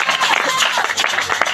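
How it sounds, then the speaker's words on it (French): A church congregation applauding and cheering in a loud, dense burst of clapping mixed with shouting voices, filling the whole short moment. "Parfait, est-ce qu'on peut acclamer?"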